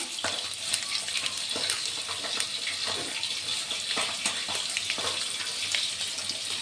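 Black cumin seeds and dried red chillies sizzle in hot mustard oil in a kadai, giving a steady, close crackling hiss with scattered sharp pops and spits throughout, no voices over it.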